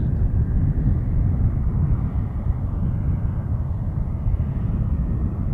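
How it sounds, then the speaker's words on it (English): An airliner departs from runway 6 left at Montréal-Trudeau Airport, its engines a steady loud broadband roar held throughout with no talk. "A little departure on 6 left"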